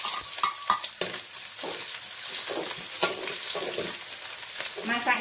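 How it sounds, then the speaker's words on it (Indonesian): Shallots and garlic fry in hot oil, a steady crackling sizzle with bursts of spattering and a few sharp clinks of a utensil against the pan, close and continuous. "Minyaknya sampun panas ya Bun. Masukkan bawang merah, bawang putih."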